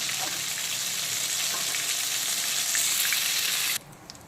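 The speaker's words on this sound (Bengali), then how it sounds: "আলু আর পটল ভাজার তেলেই দিয়ে দেবো লবণ আর হলুদ মাখানো চিংড়ি" Prawns coated in salt and turmeric hiss loudly in hot oil left over from frying potatoes and pointed gourd, a dense continuous sizzle that drops away abruptly near the end.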